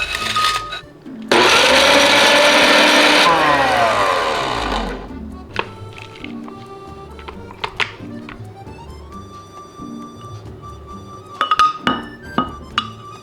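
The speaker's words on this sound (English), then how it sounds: "Put this dehydrated orange peel in the blender." A blender grinding dehydrated orange peel into powder roars loudly for a few seconds with a gritty grinding whir, then winds down into quiet clinks and light taps.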